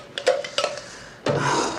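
Metal cutlery clinks against china dishes at a dinner table, several sharp, bright taps followed by a longer clattering scrape close by.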